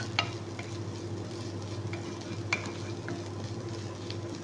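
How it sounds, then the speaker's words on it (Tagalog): Rice shabbet and laham being stirred in a pan, with a soft steady scrape and scattered light clicks of a utensil over a low constant hum, with no one talking. "haluin natin hanggang sa maluto ang shebet dito rin syempre haluin din natin dito para sa laham na chef"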